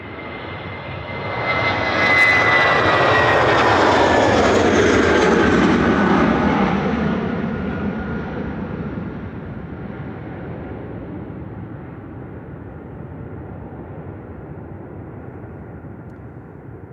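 A Shuttle airliner departs from Manchester Airport for Heathrow, flight 1375. Its engine roar swells after about two seconds and stays loud and broadband for several seconds, then fades into a long, steady distant rumble as the aircraft climbs away.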